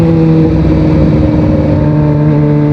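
A steady, loud engine drone with strong harmonic tones from a Kawasaki ZX25R sport motorcycle exhaust held at high revs, close by and without speech.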